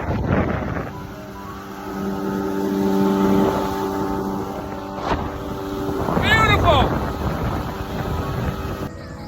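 A motorboat runs steadily across high water on a crappie fishing trip, its engine drone and wind rush continuous and close, with people talking over it.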